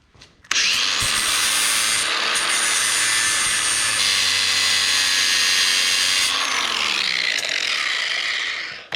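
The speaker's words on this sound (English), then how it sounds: "Get out the grinder." A handheld grinder cuts through a metal part on a Chinese buggy at a bend, a loud, continuous high-pitched whine and grinding rasp close up that runs for several seconds before spinning down.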